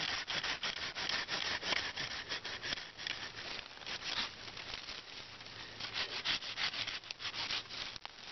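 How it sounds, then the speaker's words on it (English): Pruning cuts on juniper branches: a faint, steady, rough rasping and rubbing of the cutting continues throughout, close but quiet, with no talking. "So I just make a few cuts here, a little bit of pruning."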